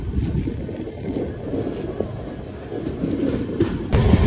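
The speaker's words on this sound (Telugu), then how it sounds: "మన ట్రైన్ అయితే దిగోమెట్ నుంచి స్టార్ట్ అయిపోయింది" A passenger train runs from Diguvametta through the Nallamala forests, heard from on board as a steady low rumble of wheels and carriages with faint clatter and a louder burst near the end, no voices.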